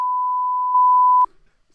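A single steady censor bleep, a pure electronic tone held loud for about a second and a quarter, then cut off abruptly, leaving near silence.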